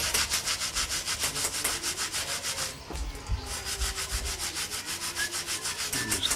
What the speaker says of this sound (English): using a brass brush scrub the surface of